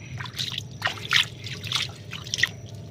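A creek runs fairly strongly nearby, giving a close, steady trickle with scattered bright drips and splashes over a low background rumble.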